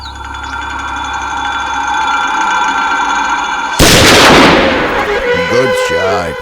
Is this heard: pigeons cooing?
no